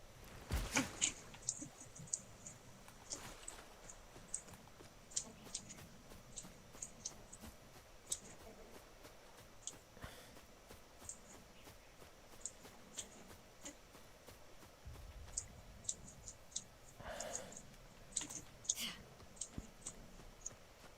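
Rapid, crisp key clicks from a mechanical keyboard, irregular bursts of typing up close, with faint murmuring in the background.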